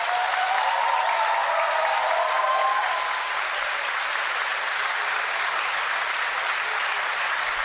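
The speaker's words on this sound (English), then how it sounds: "You got a huge applause for that." Applause from the audience at a Charlie Kirk debate event, a steady, dense crowd clapping that holds at an even level throughout with a few faint shouts at the start.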